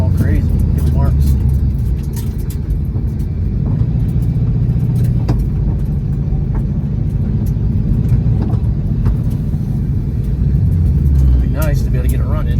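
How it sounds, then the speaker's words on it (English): A car fitted with drag radials spins its tyres at a drag strip, a loud, continuous engine roar and rumble filling the whole stretch, with voices talking over it. "Even with the drag radials on it, it's just spinning too much."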